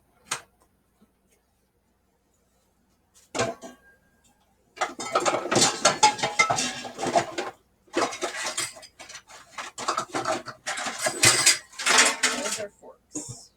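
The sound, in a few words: forks clattering in the kitchen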